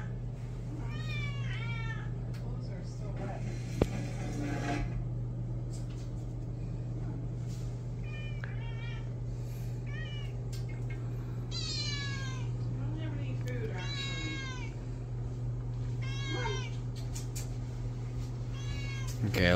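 A group of cats in the Philippines meowing repeatedly, scattered calls near and far across a constant low hum, with people talking intermittently between the cries.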